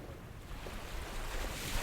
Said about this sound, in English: to notice other sounds, like the gentle waves you hear now